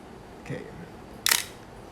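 An Asahi Pentax K1000 film camera with an SMC Pentax 50mm f2 lens fires its shutter at 1/1000, giving one sharp mechanical snap near the mic after a softer earlier click, with faint room hiss around it.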